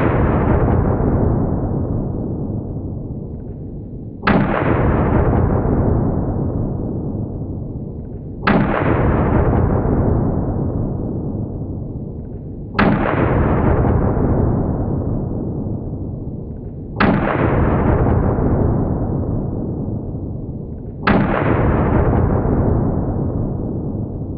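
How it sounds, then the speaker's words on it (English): A pocket pistol fires six single shots at a slow, even pace. Each sharp crack is followed by a long, fading echo before the next one. "Now that right there, that is what I call a pocket pistol."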